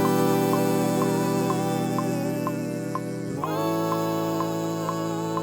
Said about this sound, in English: I wanna make a vintage choir sound.